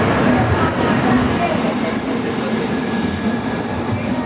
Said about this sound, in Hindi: 5 मिनट की देरी से हमारे ट्रेन का डिपार्चर हो रहा है छत्रपति संभाजी नगर से